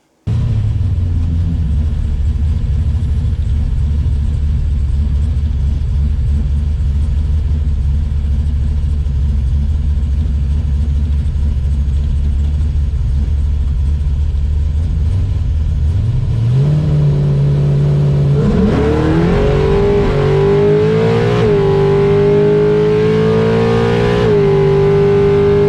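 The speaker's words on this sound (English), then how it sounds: "you watch this first run, I actually shook the tires super bad on motor" A 400 small block Chevy drag car sits rumbling loudly at the line, then launches and revs hard as the tires shake on the run, with the engine note climbing and wavering.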